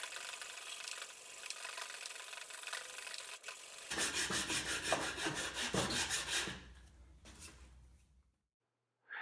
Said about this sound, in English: To sand, I'll be using my MDF board with 80 grit sandpaper